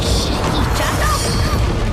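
A missile strike explodes in an animated fight scene, a loud, dense continuous roar of blasts and rumble filling the whole moment.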